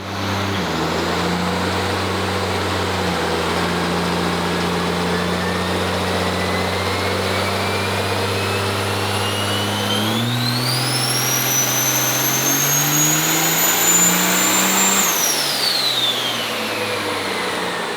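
A 2012 twin-turbo truck engine roars at full load during a dyno pull, its pitch climbing steadily, then surging higher with a whining turbo note before dropping off; loud, continuous and with no talk.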